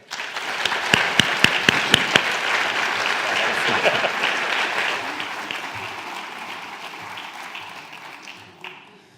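An audience in a lecture hall applauds to welcome Dr. Michael Taylor to a Paul Mellon Lecture. A few sharp claps come first, then dense, loud clapping that slowly fades out.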